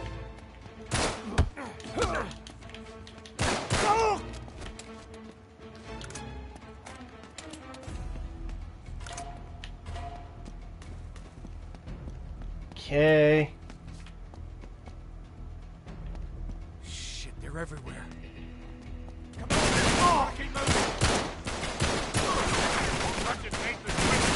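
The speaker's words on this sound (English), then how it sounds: "Yes, I'm blind firing like a fool." Blind-fired gunfire in Uncharted 3, bursts of shots and impacts scattered through the stretch, with a heavy sustained barrage near the end, while someone talks over much of it.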